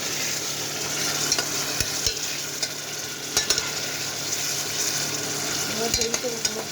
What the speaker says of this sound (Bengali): চিংড়ি দিয়ে দিলাম, সাথে একটু টমেটো আর মশলা দিয়ে দিয়েছি, একটু কষাই নেব।